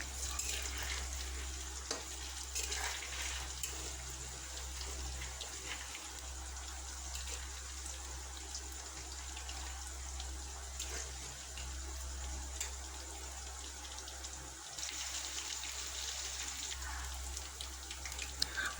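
Pakoras deep-frying in hot oil give off a steady, even sizzle and bubbling hiss that carries on without a break from start to finish, with no voices over it.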